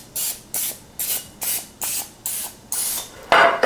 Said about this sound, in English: I'm gonna spray the muffin sheet.